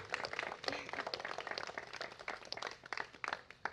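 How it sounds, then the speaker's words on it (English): Scattered wedding guests clap in a quiet, uneven patter of light hand claps that rises and falls for a few seconds. "You can clap."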